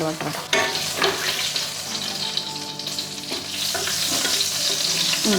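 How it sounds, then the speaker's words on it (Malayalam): Butter melting and sizzling in a pan for butter chicken, a bright continuous crackling hiss close by, interrupted by a few knocks and scrapes of a spoon, with no voices. "ലാസ്റ്റ് ബട്ടർ മെൽറ്റായിട്ട് വന്നിട്ടുണ്ട്"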